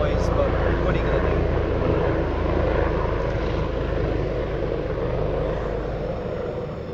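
An airplane drones overhead in a steady, broad engine rumble that slowly eases off toward the end, heard alongside a person talking.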